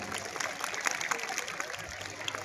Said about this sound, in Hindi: तालियों द्वारा एक बार पुनः इन छोटी सी प्यारी बच्चियों का उत्साहवर्धन करें